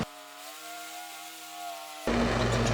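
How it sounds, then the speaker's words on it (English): A lawn mower drones steadily in the background near a warehouse, a constant engine hum that jumps to a louder, harsher roar near the end. "I'm sorry about the noise in the background, but my brother is mowing around the warehouse"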